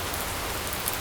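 Steady rain falling on a Tokyo street, a dense, even wash of droplet hiss all around with no voices.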